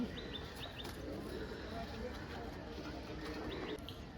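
Pigeons coo softly amid the low murmur of a busy pigeon market, with faint chirps and bustle in the background under distant voices.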